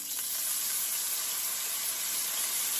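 Onion sizzles steadily in hot olive oil while a kale and wild rice casserole is being cooked, a dense, even frying hiss that holds close and constant with no voices.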